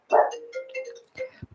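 A dog barks in a short, close outburst, one drawn-out bark or yelp followed by a few quick, clipped yips, loud and alone.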